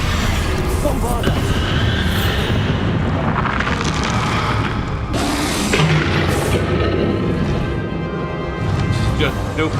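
Bombarda blasting spell explosions from Hogwarts Legacy, several loud booming blasts and crashing impacts in close succession, with a player talking over the combat throughout.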